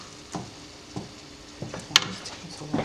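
Peppers, onions and cilantro cooking in a hot pan on raised heat, giving a soft steady sizzle broken by a few scraping stirs and one sharp clink, with no one talking.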